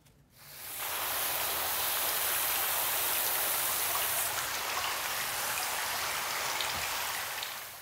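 Running water rinses styling product out of hair, a loud, continuous rushing spray that starts abruptly and holds steady for several seconds with no voices.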